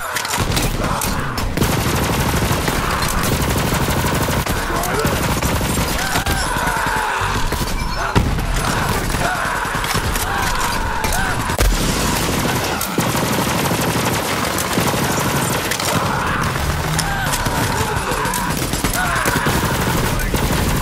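Dense, continuous gunfire from a weapon in Borderlands 3, with rapid bursts and explosive crackle sustained loudly for about twenty seconds in a chaotic battle mix.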